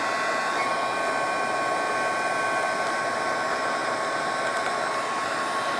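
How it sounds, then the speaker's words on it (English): A heat gun blows steadily at a dollhouse miniature dresser handle to soften its glue, giving a constant loud airy roar with a faint whine that runs unbroken and close, with no voices. "just aim the heat gun at one of your handles"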